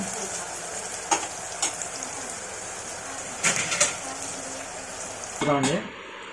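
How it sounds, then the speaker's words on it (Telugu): Green chillies and onion fry in a pan for an Andhra-style mutton curry, giving a steady sizzle with a few sharp scraping stirs and a louder clatter near the end. "ఈ పచ్చిమిర్చి ఉల్లిపాయ బాగా వేగిపోయండి"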